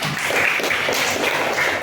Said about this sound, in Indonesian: Kasih tepuk hebat dong buat Anida.